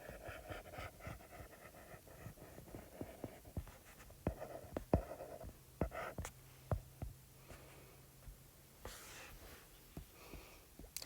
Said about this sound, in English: I'm just gonna draw lions' faces in this one.